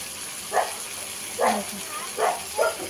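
Dogs bark in a neighbourhood during rainy weather: four short, separate barks spaced about a second apart, moderately distant, over a steady background hiss of rain.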